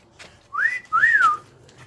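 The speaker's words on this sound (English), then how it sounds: "Then there's a whistle." Two rising-and-falling whistled notes, clear and close, with a short gap between them and no talking.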